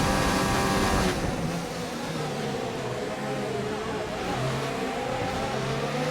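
A Formula One car in the F1 2019 game, engine droning and rising in pitch as it accelerates during a race, steady and loud throughout with a shift in tone after the first second, and a voice faintly under it.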